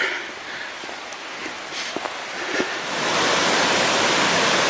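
Waugh Creek Falls rushes beside a railway trail in the Goldstream area, a broad steady roar that swells noticeably louder partway through, with a few soft footsteps on the path over it.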